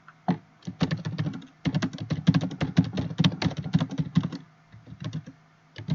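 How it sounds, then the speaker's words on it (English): Rapid typing on a computer keyboard, close and clear, dense runs of clicking keystrokes with a short pause after the first tap and another near the end. "we'll just type in here some information on the app"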